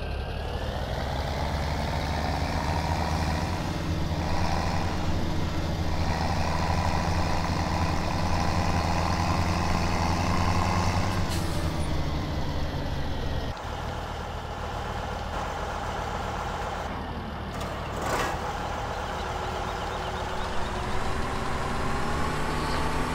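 A tractor engine in a farming video game hums steadily and close throughout, a low droning rumble with small shifts in pitch and a few faint clicks, no talk over it.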